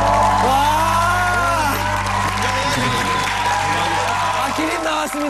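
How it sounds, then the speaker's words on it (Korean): A studio audience on a Korean singing show rises in a standing ovation, sustained dense clapping with cheers and whoops, while voices ring out over the crowd. "기립 박수 나왔습니다"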